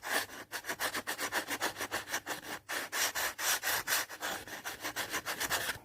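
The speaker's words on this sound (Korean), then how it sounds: "메워준 핸디코트가 다 건조가 되고 난 후 220방 고운 사포를 이용해서" Dried patching filler being sanded smooth by hand with fine 220-grit sandpaper, a rapid rhythmic back-and-forth rasping of close strokes with a couple of brief pauses, loud and alone.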